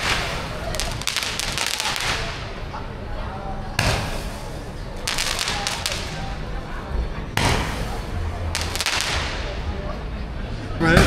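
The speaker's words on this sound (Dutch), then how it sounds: "live muziek hebben we nog niet, maar wel live vuurwerk hè?" New Year fireworks burst repeatedly in Vietnam, with loud cracking explosions arriving in three clusters roughly every few seconds, each followed by crackling, and some voices heard in the background.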